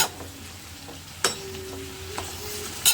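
Food frying in a generous amount of oil in a pan, giving a steady close sizzle with a few sharp clinks of a utensil against the pan over about three seconds.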